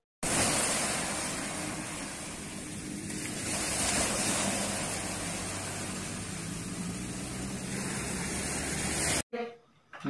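Steady wash of surf breaking on an Indonesian beach, a broad continuous roar with gentle swells in loudness, close and fairly loud, cutting off abruptly near the end.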